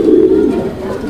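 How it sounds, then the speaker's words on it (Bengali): Pigeons at a pigeon farm where giant homer pigeons are kept, cooing in low, throaty, rolling calls that sound close and fairly loud, continuous across the moment with no talk. "দেখাচ্ছি চমৎকার আরো এক জোড়া কবুতর।"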